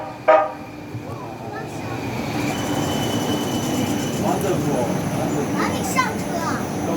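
A Cincinnati Bell Connector streetcar pulls into an elevated platform, giving a short horn toot near the start, then a low rumbling roll with thin wheel squeals and a brief chime, faint voices in the background.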